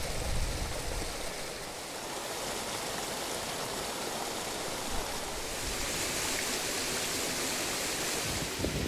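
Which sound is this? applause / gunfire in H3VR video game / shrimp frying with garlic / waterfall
waterfall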